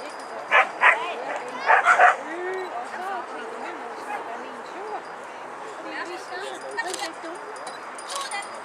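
A cheerful dog gives a quick burst of four or five loud, sharp barks and yips close by near the start, then quietens while people keep talking over low background noise.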